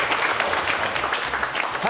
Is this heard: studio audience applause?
yes